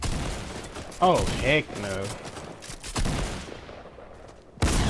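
Rapid video-game gunfire, with bursts of shots and a sharp loud crack near the end, runs under an excited voice reacting to the match.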